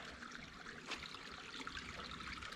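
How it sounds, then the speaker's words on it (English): Creek water trickling beside a muddy trail in a Washington forest park, a faint continuous babble and gurgle with small splashy accents, heard at a distance without talk. "We found a creek."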